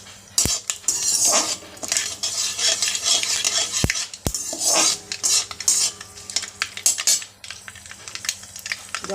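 Dried red chilli, bay leaf and whole black mustard seeds spluttering in hot oil in a pan at a Bengali home stove, with sharp crackling pops, sizzle and clinks of a utensil against the pan, close and fairly loud throughout.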